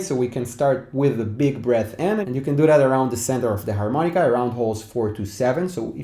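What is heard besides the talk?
No distinct noise like a dog, phone or traffic.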